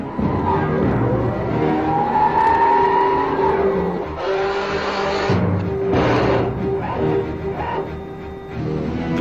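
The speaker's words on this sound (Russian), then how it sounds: "Это боевая машина 2Т «Сталкер». Одна из последних секретных разработок Белоруссии." The Belarusian 2T Stalker combat vehicle drives nearby with a rising engine whine and revving, mixed with bursts of rushing noise and mechanical clatter, loud and continuous throughout.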